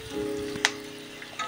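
Chopped onion, capsicum and green chilli fry with ginger and garlic in hot oil, a soft close sizzle with a brief stirring clatter partway through.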